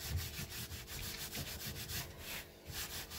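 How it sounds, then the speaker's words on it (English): A cloth buffs and burnishes a dyed leather surface with steady, close rubbing strokes, a soft continuous scuffing texture with a gentle rhythm. "give it a buff. This will just burnish the surface a little bit"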